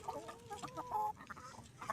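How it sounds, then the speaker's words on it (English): Several chickens cluck and squawk excitedly in quick bursts, close by, while eating food dumped out from a refrigerator. "All right, they're going crazy."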